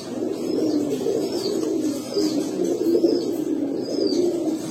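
A pair of high flyer pigeons cooing close by, soft repeated throaty coos rising and falling in a loose rhythm, with a few faint chirps in the background.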